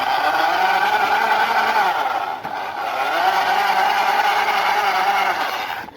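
A can pressed against a bicycle tire buzzes like a revving engine, a steady loud drone that rises in pitch, drops briefly midway, then climbs again.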